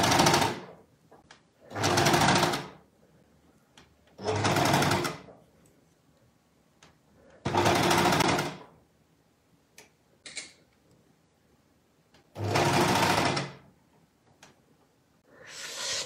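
Sewing machine stitching baby slipper fabric in short separate bursts of about a second each, five or six runs with quiet gaps and small clicks between, close and clear.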